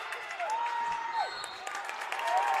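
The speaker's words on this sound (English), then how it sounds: "And the Boone crowd is on their feet." A crowd at a Boone high school varsity wrestling match cheers and claps steadily, a broad roar with a whistle-like tone rising through it and a commentator talking over it.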